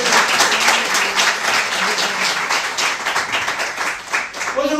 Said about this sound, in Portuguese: Será que você pode dar uma salva de palmas ao Senhor?